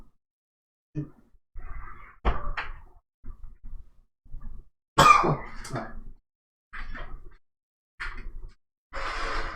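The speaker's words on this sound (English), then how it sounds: "I'm gonna have a nasty cough" A person coughs and clears their throat in a string of about nine short bursts over several seconds, close to the microphone, with brief quiet gaps between each fit.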